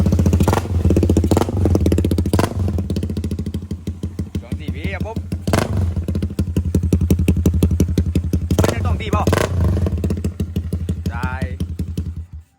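A Honda Sonic motorcycle fitted with a CB150 engine idles in neutral, a loud close steady rapid putter with a few blips of revving, while someone talks over it.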